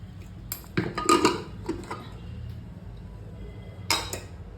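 A pressure cooker of mushroom pulao is opened, giving a few close metallic clanks and clinks of the lid and utensils in bursts, separated by quieter gaps.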